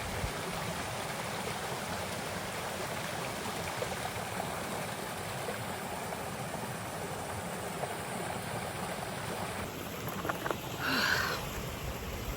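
A river in the Jamaican countryside rushes steadily as a continuous, moderately quiet wash of flowing water, with a few brief knocks near the end.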